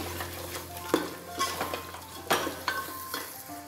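Spice masala and garlic stirred together in a pan over low heat for dhaba-style handi mutton, with soft scraping and clinks of a spoon against the pan in a few scattered strokes over a faint background sizzle.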